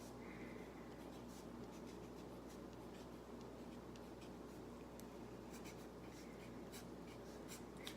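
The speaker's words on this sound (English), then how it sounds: "So I'm going back over all my writing." Faint, continuous scratching of a pen tracing over handwriting on a Valentine's Day card, heard close in a quiet room with soft rubbing and no talk.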